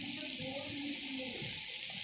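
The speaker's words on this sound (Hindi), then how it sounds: "मसाले के लिए मैंने इसमें 2 टेबलस्पून पानी ऐड कर दिया।" Water added to keema masala cooking in a pan gives a steady, fairly quiet hissing wash, with faint talk underneath.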